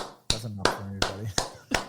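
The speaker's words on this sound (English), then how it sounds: "Let the record show that only one person is clapping." Five sharp, evenly spaced hand claps from a single person ring out close and crisp, with a voice talking faintly underneath.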